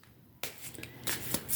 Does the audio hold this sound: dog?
no